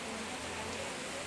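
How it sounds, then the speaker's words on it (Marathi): Heavy monsoon rain pours steadily in Raigad, a dense continuous hiss of downpour with no pauses, loud and close. "रायगडमध्ये जोरदार पाऊस होतोय।"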